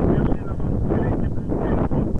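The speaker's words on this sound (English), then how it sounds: "this wind's getting up" Wind gusts across an outdoor field, buffeting the microphone with a loud, low, rumbling roar that swells and dips unevenly through the short stretch.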